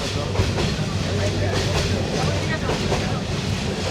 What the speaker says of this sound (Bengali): এক ঘন্টা মতো ডিলে হওয়ার পর অবশেষে ট্রেন আইলো